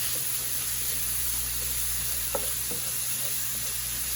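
Pork fat rendering in a hot pan before cabbage goes in, a steady, even sizzle and hiss with a faint clink or stir near the middle and no talking.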